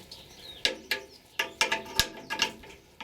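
A homemade rack-type log splitter mechanism is turned by hand. It gives a series of sharp metallic clicks and ratcheting knocks at irregular intervals, close and distinct, with no talk.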